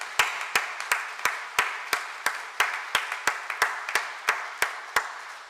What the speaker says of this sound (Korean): 환영의 꽃을 전할 때 큰 박수 보내주시기를 바랍니다.